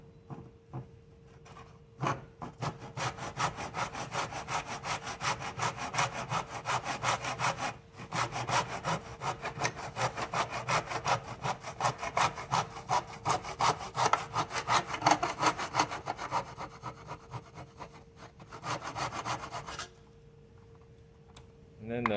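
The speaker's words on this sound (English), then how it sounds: "I'm going to pull my saw back." A hand saw cuts through a wooden board, steady rhythmic rasping strokes close by, lasting most of the span with a brief pause midway before tapering off.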